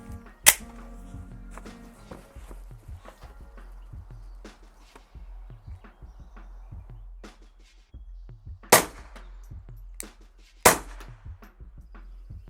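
A Glock 44 pistol fires Winchester 36 grain copper-plated hollow points outdoors; three sharp, separate cracks ring out several seconds apart over quiet background clatter.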